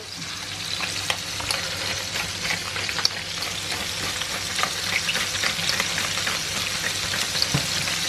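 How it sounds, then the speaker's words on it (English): Sauce simmering in a pan beside cod fillets seasoned with salt, pepper and oregano, a dense continuous sizzle and bubbling crackle with scattered sharp pops, close and fairly loud, with no talking. "And the sauce is just simmering away."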